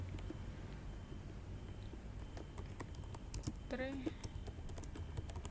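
Python command being typed on a computer keyboard, a quiet steady patter of key clicks with a brief voice partway through, against a low room hum.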